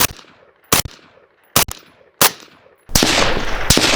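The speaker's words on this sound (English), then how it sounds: "Let's put a couple more rounds and empty out this mag." A suppressed Tavor X95 rifle fires separate shots, each a sharp, loud crack with a short decay, coming at uneven gaps of about a second. The burst ends in a sustained rushing noise, all close up with no talking.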